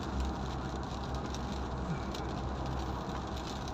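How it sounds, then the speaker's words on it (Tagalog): Steady rain drums on a pickup truck during a drive, a dense continuous wash with low road rumble underneath, constant and fairly loud throughout with no voices. "Hirap talaga pag ganito, umuulan."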